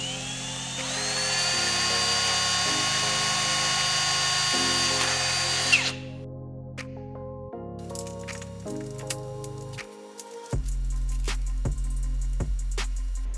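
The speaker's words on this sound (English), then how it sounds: "Drill a 3/8 inch hole on your mark and reinstall your surround." A power drill boring a 3/8 inch hole in the body of a Jeep Wrangler Unlimited, a steady high whine with several stops and restarts and a few sharp clicks, close and loud with no talk.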